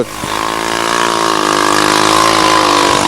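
A white motocross motorcycle competing in a 1985 race engine drones steadily, close and loud, holding an even, buzzing pitch throughout.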